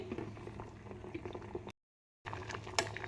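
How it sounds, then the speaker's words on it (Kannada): Spinach leaves boil in a pot of water, making a steady, close bubbling and gurgling. A brief moment of silence breaks the sound midway, and no one speaks. "ಇದನ್ನು ಈಗ ಸೊಪ್ಪನ್ನ ನೀಟಾಗಿ ಬೇಯಿಸ್ಕೊಳ್ಳಿ"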